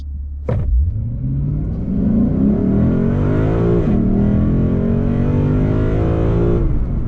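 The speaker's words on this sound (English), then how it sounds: "the secondary intake opens up and it's got a real deep, throaty soundtrack" A deep, throaty V8 engine in a 2020 Lexus RC F Track Edition roars loudly and close as it accelerates and the secondary intake opens, the pitch climbing steadily over several seconds with no voices.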